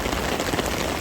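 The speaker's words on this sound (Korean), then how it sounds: "이 안에 빗방울 튀기는 소리가" Heavy downpour drumming on an open umbrella, loud and close, a dense continuous pattering with the sharp spatter of drops splashing on the ground below.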